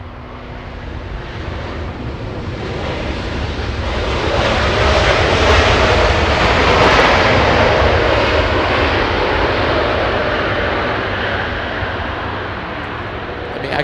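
KLM airliner taxiing along Taxiway Lima toward the west gates at Los Angeles International Airport: a broad jet-engine roar swells to a peak midway and then eases off, heard from a distance with some wind noise.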